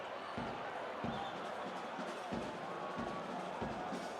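A large crowd at a Premiership football match between TS Galaxy and Marumo Gallants murmurs and groans in frustration, a distant broad wash of voices with dull thuds, under faint commentary.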